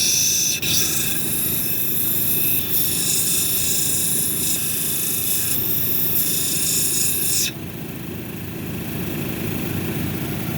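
A banded amethyst cabochon is ground on a 220 grit wheel, giving a steady whirring machine hum with a high whine that cuts off partway through while the motor keeps running.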